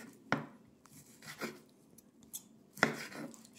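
A knife cuts through tender pressure-cooked barbecue beef on a cutting board, giving a few sharp thuds and soft scraping strokes, spaced out and close, with no speech.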